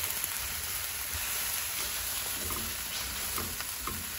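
Zucchini coated in panko crumbs frying in a pan, a steady close sizzle and crackle with a few soft stirring scrapes, no talking.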